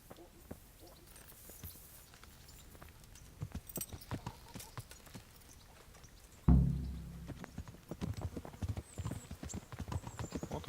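Horse hooves clip-clop in a steady walking rhythm in the medieval role-playing game Kingdom Come: Deliverance. A louder thump midway is followed by heavier, closer hoofbeats, with faint voices in the background.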